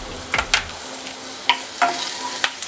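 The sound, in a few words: green chilies sizzling as they are added to hot oil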